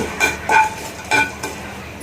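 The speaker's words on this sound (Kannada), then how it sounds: "ಲವಂಗ, ಮೆಣಸು ಇವೆಲ್ಲ ಹುರ್ಕೋಬೇಕು." Cloves and pepper dry-roast in a kadai, with a few short scraping and rustling strokes of a spatula stirring the spices, close by and fairly loud, no voices.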